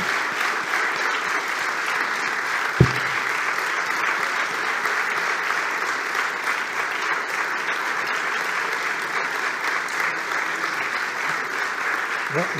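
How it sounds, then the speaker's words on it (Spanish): Audience applause at a 2023 diploma ceremony fills the hall, a steady dense clapping throughout with one sharp knock near the start. "No aplaudáis todavía, por favor,"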